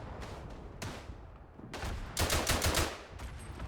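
Machine gun fire in the World War I shooter Verdun, broad crackling bursts with a dense sustained volley near the middle and shorter scattered shots before and after.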